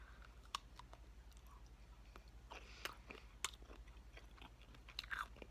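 Someone chews a bite of mushroom close to the microphone, with soft wet crunches and clicks scattered irregularly over a quiet low hum.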